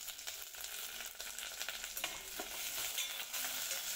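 Onions with asafoetida sauté on low heat in a pan for tomato sambar, a soft, steady sizzle with light stirring scrapes and no talking.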